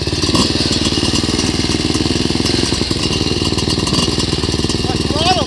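A Christini AWD Hammer motorcycle engine runs with a stuck throttle, holding a steady, loud, rattling drone close by on a hillside ride.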